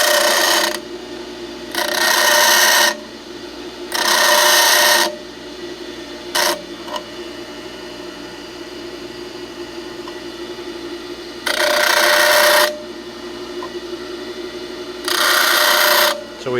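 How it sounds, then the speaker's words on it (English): An angle grinder grinds off the end of a metal part on a Marmon car, coming in loud harsh bursts of about a second each with quieter gaps between them, five passes in all. "we'll just take this end and we'll grind it off and then make it so it works"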